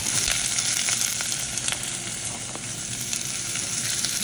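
Onions just dropped into a hot pan give off a steady, loud sizzle with faint crackles and light stirring scrapes, with no voices over it.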